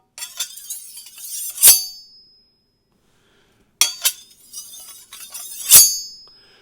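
Two metal knife blades scraped and clinked together for medieval knight sword foley, each pass a bright ringing metallic sweep building to a sharp clang, separated by a short silence, close and fairly loud.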